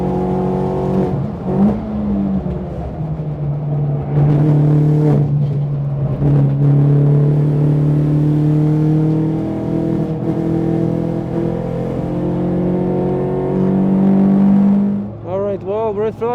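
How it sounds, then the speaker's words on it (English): A real race car's engine howls at full throttle on a UK track, loud and close, climbing through the revs with several gear changes and a burst of rapid rev warbles at the end; a voice is also present. "I'm flooring it."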